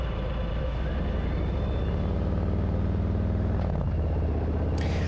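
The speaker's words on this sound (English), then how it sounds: "So you hear the engine putting out some power to accelerate in between the turns." A 2018 Harley-Davidson Fat Bob 114 motorcycle accelerating uphill between mountain-road turns, a steady deep engine rumble heard close up with no talking.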